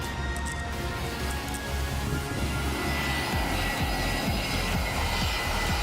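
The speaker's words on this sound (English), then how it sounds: "the planes fly directly over the beach, and yes, it's very noisy" A jet airliner flying low over a beach on approach to Phuket Airport roars loudly and steadily overhead, a continuous heavy rumble and whine that fills the whole stretch.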